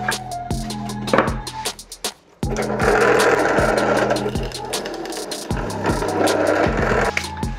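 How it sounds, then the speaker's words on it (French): A drill press motor whirs loudly and steadily while the bit bores holes in pallet wood, with repeated knocks and clunks recurring every second or so and a brief pause midway. "je passe sur la perceuse colonne pour faire mes trous"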